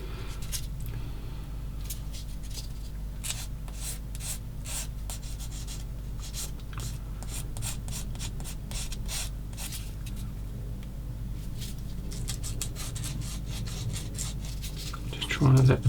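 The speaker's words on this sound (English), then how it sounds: "Again, the sanding stick does the work." A sanding stick rubs steadily against a small plastic part of a 1/16 scale M10 IIC Achilles tank destroyer model, giving a dense run of close scratchy strokes over a constant low hum, with a louder clatter at the very end.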